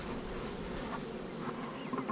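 Honeybees buzzing during a swarm install into a hive, a continuous low drone close to the microphone, steady and unbroken with light wind noise.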